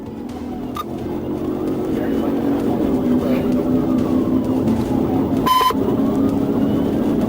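A Georgia State Patrol siren wails steadily in the background of a police chase beneath a trooper's voice talking over continuous road noise.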